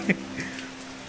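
Soft, steady rain patters in the background in Devgad, Konkan, with a brief faint tap near the start and no clear talking.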